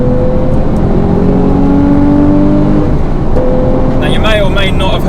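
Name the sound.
sports car engine getting louder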